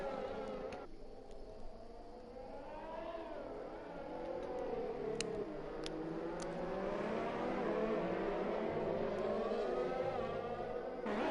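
Race cars pulling out of the pit lane at Silverstone in a racing video game for the British Grand Prix, with continuous engine whine and shifting revs under steady background noise, sustained throughout.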